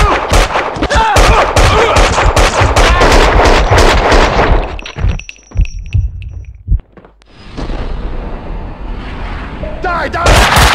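Loud, rapid gunfire from the PC game Max Payne 2: The Fall of Max Payne, a dense volley lasting several seconds, then a lull with a few isolated shots before more firing, with shouting voices in between.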